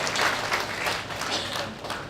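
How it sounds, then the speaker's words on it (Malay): A crowd claps at a Puteri UMNO political campaign launch, a brief, fairly faint burst of steady applause from a gathered audience. "Beri tepukan kepada yang hadir bersama-sama dia."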